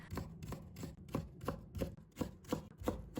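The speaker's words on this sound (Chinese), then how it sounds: "再准备半根青瓜，把它切成薄片。 再把它切成细丝" A knife chops steadily through half a cucumber on a cutting board, cutting it into thin strips, with about nine crisp, evenly spaced knife strikes close up and no talking.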